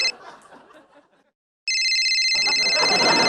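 A telephone rings loudly with a bright, sustained electronic tone that cuts in suddenly after brief laughter and murmuring, joined by background crowd noise.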